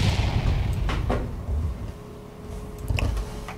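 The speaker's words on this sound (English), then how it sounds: "I'm only using the missile turret." A missile turret fires in Roblox Battleship Battle, giving heavy booming blasts at the start, again about a second later, and once more near the end, each followed by a rumbling decay.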